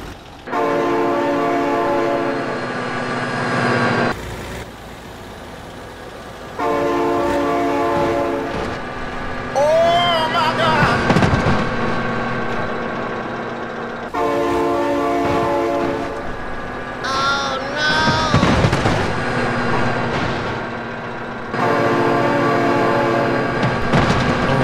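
A loud train horn blares in long repeated blasts while a train rumbles and clatters past in BeamNG.drive, with screeching wheel squeals between the horn calls.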